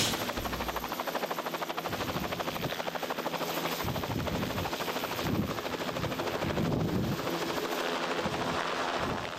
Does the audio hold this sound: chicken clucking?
no